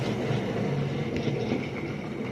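A model goods and passenger locomotive with rubber washers glued to its wheel flanges runs on a layout track, giving a steady, continuous rolling rumble close by with no talk.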